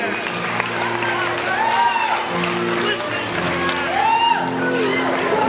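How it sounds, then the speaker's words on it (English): A country concert audience in Uncasville, Connecticut applauds and cheers in a sustained wash of clapping, with a few whoops rising above it and a voice speaking over the crowd. "Yeah, you can applaud that"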